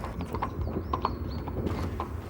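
Horse hooves clip-clop in a steady walking rhythm on a hard surface, moderately close, with light ambient noise and no talk.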